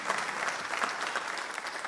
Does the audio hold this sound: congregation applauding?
yes